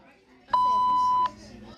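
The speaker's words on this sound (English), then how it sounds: "Whoa, why are you beeping that out?" A single steady censor bleep tone sounds for under a second, loud and sharp, set over voices talking.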